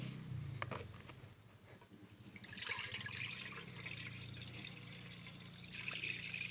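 Boiled lime water, made from the juice of many limes for homemade dish soap, pours out in a steady splashing stream that grows louder midway, with no talking.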